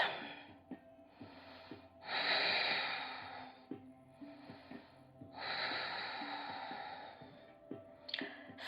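Heavy breathing during a core abdominal workout, with two long loud exhalations between quieter breaths and soft snorts, close and with no talk.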